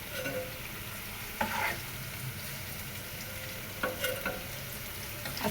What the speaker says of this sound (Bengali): লবণ আর হলুদ দিয়ে ডিমটা হালকা করে ভেজে নিলাম।